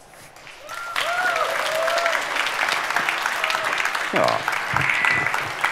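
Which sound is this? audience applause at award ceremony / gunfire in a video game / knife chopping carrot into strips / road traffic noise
audience applause at award ceremony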